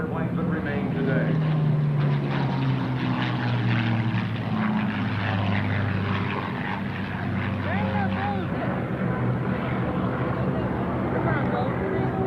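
Propeller aircraft fly at the Jacksonville Airshow, including a C-130 Hercules, giving a loud, sustained engine drone that stays close and steady over the whole stretch while an announcer talks over a public address.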